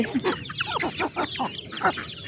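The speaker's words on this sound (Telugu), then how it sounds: "బొంత కోళ్ళు కొన్నానని చెప్పాను కదా, గిరాజా కోళ్ళు." Giriraja chickens cluck in quick, uneven bursts close by, several birds overlapping in a busy, chattering series.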